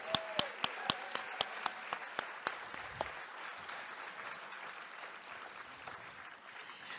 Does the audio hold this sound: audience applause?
yes